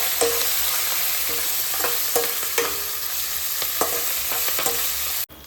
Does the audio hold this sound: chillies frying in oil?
yes